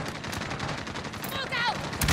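Rapid gunfire fills a Spec Ops mission in Modern Warfare: dense, continuous shots crackle throughout, with brief voice-like chirps layered over the firing.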